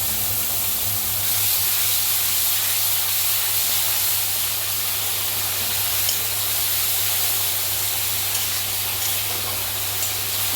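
Green chillies and a ground paste of mustard, tomato, garlic, tamarind, salt and turmeric sizzle in hot mustard oil, a loud, continuous hiss like spray that holds steady throughout, close up and with no voices.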